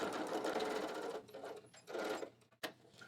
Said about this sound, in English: I sewed the bottom of the pocket down